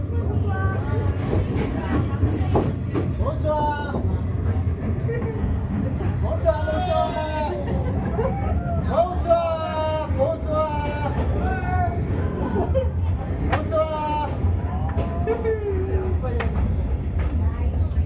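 Train rumbling along Hanoi's train street, a low continuous roar running throughout beneath crowd chatter and nearby voices, with a faint high whistle early on.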